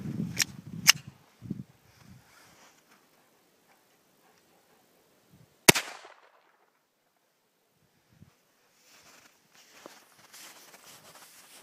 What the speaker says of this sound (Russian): Вальтер P99, тестируем. Патроны газовые, отечественные.